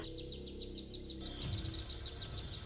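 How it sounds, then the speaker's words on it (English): Faint, repeated high chirps of birds, quick tweeting calls over a low steady hum, fairly distant and quiet. "You hear birds as you enter the room"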